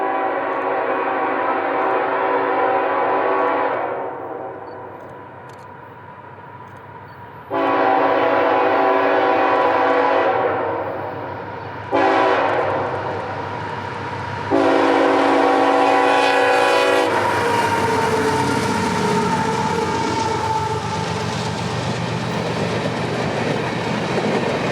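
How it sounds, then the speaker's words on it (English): A CSX empty coal train, E248, sounds repeated long, loud blasts of its horn close by, then rumbles past with a mile-long string of empty hoppers, its wheels clattering steadily on the track. "empty coal train E248, who'd be rounding the S-curve here with a mile-long string of empties"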